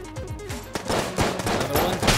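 Gunfire in the video game Enter the Gungeon, with rapid repeated shots and sharp impacts in an uneven, continuous barrage layered with descending game effects.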